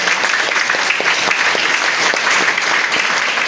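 Audience at a DXN event clapping for Dr. Li, a steady, dense burst of applause filling the room throughout, close and fairly loud with no talk over it.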